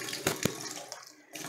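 Tap water runs steadily into a glass for a surface tension experiment, a continuous hiss with a couple of brief splashy knocks near the start.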